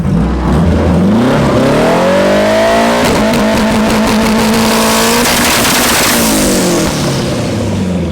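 A K24-swapped all-wheel-drive turbo Honda Civic launches hard, its engine note climbing steadily as boost builds, loud and close, with a brief chirp of tire squeal and a high turbo whine over the sustained roar.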